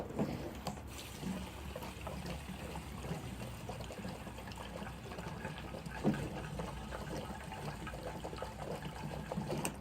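Gasoline is poured into the fuel tank of a 1992 Craftsman 36-inch lawn tractor, a steady trickling fill that runs for about ten seconds at low level with no talk.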